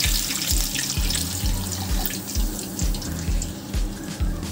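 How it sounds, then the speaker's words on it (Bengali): Water is poured into a pan of lightly fried jute leaves, a steady loud splashing gush that runs throughout with no speech. "তো দেখো, এবার আমি এর মধ্যে জল দিয়ে দিচ্ছি।"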